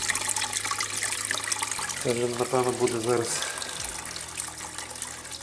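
Flushing solution drains steadily from a car heater radiator, a continuous watery trickle under a man's brief speech.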